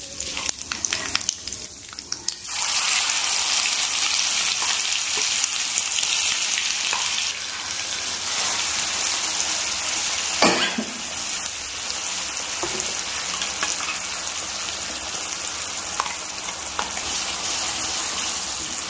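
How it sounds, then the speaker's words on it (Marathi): Spice masala hits hot oil in a pan for a pea and potato curry and breaks into a loud, continuous sizzle with crackling spatters, then settles into a steady frying hiss nearby. "याला मसाला आपला छान परतून घ्यायचा."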